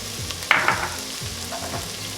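Butter and garlic frying in a pot over medium heat for homemade vegetable soup, a soft crackling sizzle with a few sharper stirring clicks near the start, close and fairly quiet, no talk.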